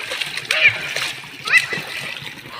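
Water splashes in quick bursts, close by, with a voice chattering between the splashes in a small, partly filled pool.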